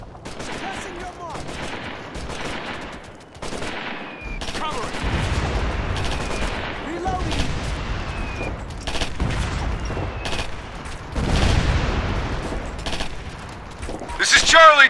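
Artillery and gunfire in Operation Flashpoint: Red River, with repeated machine-gun bursts and heavy booming impacts, loud and continuous as soldiers shout over the battle.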